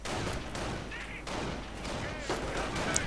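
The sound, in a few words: machine gun fire in a strategy video game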